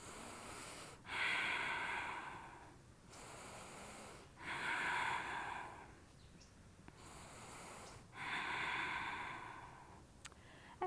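Slow, audible breathing held during a yoga pose, three long drawn-out breaths with quiet pauses between them, close and fairly soft against low room noise.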